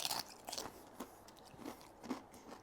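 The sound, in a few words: biting and crunching tortilla chip with cashew cream and sunflower seeds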